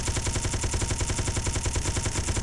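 A flashbang block in Space Engineers fires off steady, rapid-fire shooting, a loud dense rattle of shots that runs unbroken through the whole stretch.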